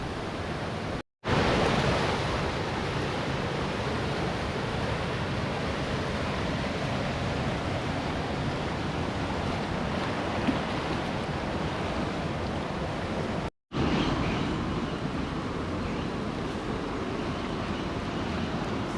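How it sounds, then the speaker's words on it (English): A fast, rapid river rushes steadily on a jungle trek in the Amazon near the Putumayo, a dense, continuous roar of water that fills the scene, briefly cut out twice. "Yeah, it's very fast and rapid river,"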